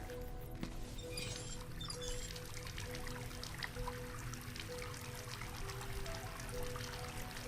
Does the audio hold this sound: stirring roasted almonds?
no